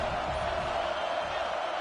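A college football stadium crowd gives off a steady, dense roar, loud and unbroken throughout, with no distinct voices rising above it.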